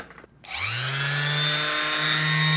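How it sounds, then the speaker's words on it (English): A steady high-pitched motor whine starts up after a brief quiet moment and runs continuously, close and loud, as a palm sander grinds against EVA foam. "I'm going to use a palm sander."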